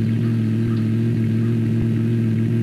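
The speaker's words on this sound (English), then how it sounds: "There's also another car in here" A car engine in the survival video game apocZ runs as a steady, close mechanical drone with a low hum and faint clatter, holding at an even level throughout with no talking.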